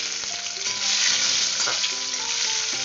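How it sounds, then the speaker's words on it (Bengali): Boiled potatoes frying in a pan with bay leaf and cumin, a steady close sizzle throughout, with soft background music tones underneath. "এই আলু যদি আমি সেদ্ধ করে রেখেছি, খুব সামান্যই আমি একটু ভেজে নেব"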